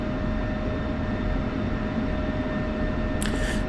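F-16 jet taxiing in the DCS flight simulator, a steady engine whine and hum held constant and close, with a brief hiss near the end and no talking.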